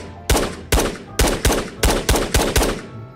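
Eight loud, close gunshots ring out in quick uneven succession in the VR shooter Ghosts of Tabor, each with a sharp crack and short decay.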